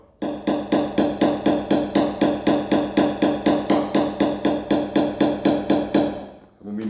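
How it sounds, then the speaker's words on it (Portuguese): A small hammer taps a dented car body panel in quick even strokes, roughly four per second, close up during glue-and-suction dent repair, stopping near the end as a brief voice begins. "Nota, pessoal, que só pelo batido do martelo você tem que achar a pé dura"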